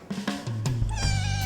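A stray kitten at a veterinary clinic meows several times in quick succession, close and clear, the cries rising into a longer drawn-out wail at the end.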